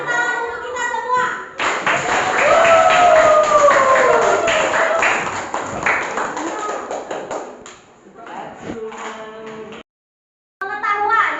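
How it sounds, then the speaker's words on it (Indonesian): A classroom group breaks into brisk applause, a dense burst of many hands clapping together for several seconds. It fades out into children's chatter. "Tepuk tangan untuk kita semua"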